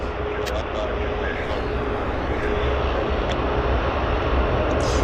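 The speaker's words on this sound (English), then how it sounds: "It always sounds like a Charlie 130 Hercules to me, that aircraft." A steady aircraft engine drone, taken as a Lockheed C-130 Hercules, rumbles continuously near Vancouver Airport, loud and broadband throughout with no pauses.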